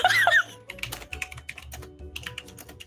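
Rapid computer keyboard typing, a dense run of sharp clicks close up, opening with a brief burst of other sound.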